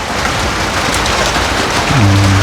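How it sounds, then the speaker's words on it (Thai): Steady, dense rain falls outdoors at a rural home, a loud continuous hiss throughout, with a low hum starting near the end. "ฟ้าฝนเนาะตกลงมา"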